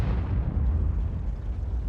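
An artillery shell explodes against a tank in the World of Tanks video game, a muffled low boom that rolls on as a dull rumble.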